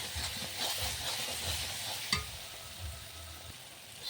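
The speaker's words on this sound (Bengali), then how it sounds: "এবার আমি মশলাটা ভালো করে কষিয়ে নেব" A spice mixture for ghugni is stirred and fried in a pan, giving a low, continuous sizzle with soft scraping strokes and one sharper clink of the spoon partway through, close and fairly quiet.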